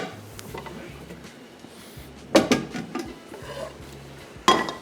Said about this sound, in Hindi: और कटलेट के लिए यहाँ पे ले लेते हैं हम एक अदद पैन